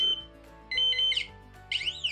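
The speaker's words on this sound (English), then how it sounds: "in the end we have the seventh buzzer" An ifm signal lamp buzzer's steady electronic tone gives way to pulsing beeps and warbling, siren-like sweeps, loud and near, with no voices.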